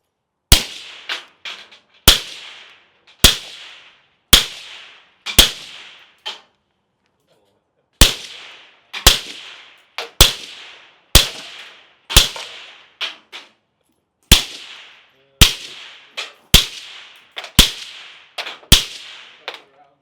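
Suppressed rimfire gunshots fired through silencers crack out one after another at irregular intervals, sharp and close, each followed by a short decaying tail, with a brief pause near the middle.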